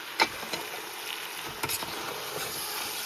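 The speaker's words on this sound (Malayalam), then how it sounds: "ഇനി നമുക്ക് ഇതിനകത്തേക്ക് നമ്മുടെ ചിക്കൻ്റെ പീസ് ഇട്ട് കൊടുക്കാം" Chicken pieces fry in masala for chicken madhooth, a quiet, steady sizzle close by, broken by a few soft clacks and stirring scrapes, with no one talking.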